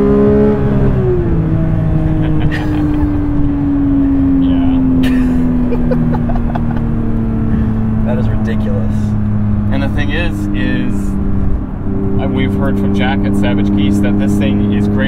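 A 2022 Porsche 911 GT3 engine drones loudly from inside the car, its pitch rising and then easing as it revs, with voices talking excitedly over it.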